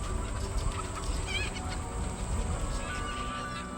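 Chickens clucking inside farm buildings, a dense continuous flock murmur with overlapping clucks held at a steady level throughout, no voices.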